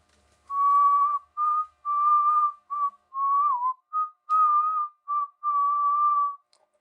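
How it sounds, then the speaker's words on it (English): A person whistles a slow melody, clear sustained notes in several phrases separated by short pauses, close and solo with a quiet background. "He whistled a few bars."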